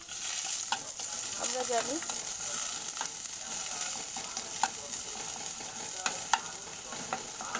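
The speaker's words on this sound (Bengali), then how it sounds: "তো দেখো প্রথমত পেঁয়াজ কুচি আমি দিয়ে দিলাম।" Chopped onion frying in a pan for chow mein hisses in a steady close sizzle, with occasional stirring clicks and a brief voice speaking partway through.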